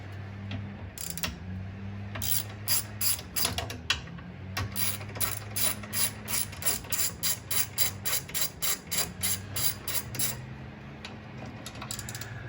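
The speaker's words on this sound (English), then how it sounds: "Now we're going to remove the bonnet release cable." Rapid repeated ratcheting clicks in quick bursts, close by, over a low steady hum, as a tool removes the bonnet release cable on an Aston Martin during a V12 engine swap.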